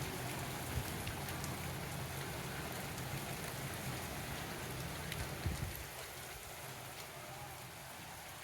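Heavy rain during a storm in a village, a steady dense wash of drops pattering on surfaces, constant and fairly close, easing slightly toward the end.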